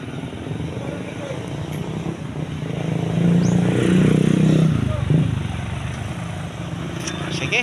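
A motorized tricycle loaded with vegetables drives past on a road in Mindanao, its engine droning steadily and swelling louder as it comes close midway before easing off again.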